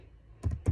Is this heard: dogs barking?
no